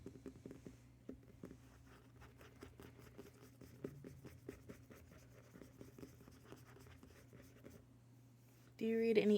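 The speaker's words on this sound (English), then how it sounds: "I think I'm going to do some scratch triggers in the back while we talk" Soft ASMR scratching triggers make a quiet, close, irregular patter of scratches under gentle talking, with a brief louder burst at the very end.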